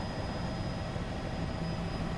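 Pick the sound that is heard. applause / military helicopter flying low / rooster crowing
military helicopter flying low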